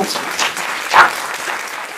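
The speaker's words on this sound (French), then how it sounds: "Je crois qu'on peut les applaudir." An audience at a round-table discussion on women entrepreneurs gives brief applause, with a soft, dense patter of clapping that swells for a moment partway through.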